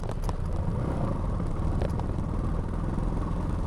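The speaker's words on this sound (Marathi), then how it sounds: "हे बघा, रिक्षा आलेली आहे" An auto rickshaw engine rumbles steadily near a road under construction, a constant low drone with light clatter and no talk.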